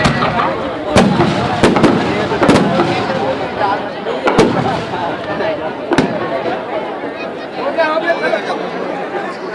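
Fireworks burst at a Raavan Dahan celebration at the WRS Ground in Raipur, with sharp pops and bangs scattered through a steady wash of crowd chatter and a commentator's voice.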